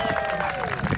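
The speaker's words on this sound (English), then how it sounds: "give them a big round of applause" Audience applause breaks out at a small city event's prize announcement, a short, dense burst of clapping with a few voices and cheers mixed in.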